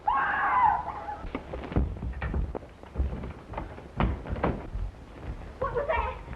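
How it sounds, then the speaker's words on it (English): A shrill scream bursts out at the start of a radio drama scene, followed by thumps and knocking as if at a door, with a brief cry again near the end. "Where did that scream come from?"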